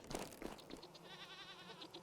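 Small baby goat in a video game bleating in a short wavering call, fairly faint, after a few soft knocks and crunches.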